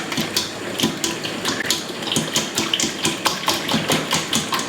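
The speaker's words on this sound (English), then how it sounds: "Now we're gonna give the mix, lightly whisk it a little bit." A pasta mix being lightly whisked in a bowl, a close run of quick, even clicking strokes that keeps a steady rhythm.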